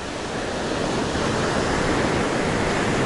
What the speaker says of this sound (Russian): Собачке просто нравится стоять и чувствовать, что на нее набегают волны.